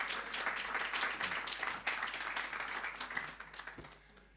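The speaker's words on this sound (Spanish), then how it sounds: "Un aplauso para el doctor Alejandro Mazzarini." An audience at a biological medicine conference applauds a doctor taking the stage, a brisk wash of clapping that thins and fades near the end.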